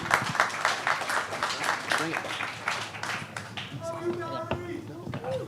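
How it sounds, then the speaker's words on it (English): Crowd applause at a live marketing awards event as speakers come up on stage, loud and dense at first, then easing off while footsteps and voices come through near the end. "Round of applause."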